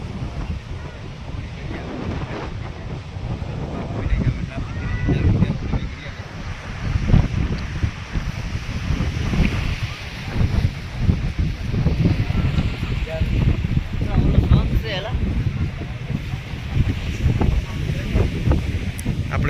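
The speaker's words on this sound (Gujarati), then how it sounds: "તો આવી ગયા છે દરિયાના કિનારે ને દરિયો ઘૂઘવાટ કરી રહ્યો છે" Sea waves rolling onto the shore at Madhavpur Ghed beach, a continuous loud surging roar with gusting wind buffeting the microphone throughout.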